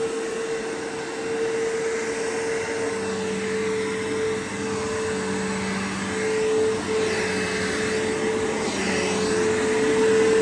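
A 2004 Bissell Powerforce 3522-1 upright vacuum running on matted carpet, a loud steady motor whine with a constant tonal hum throughout, heard alone.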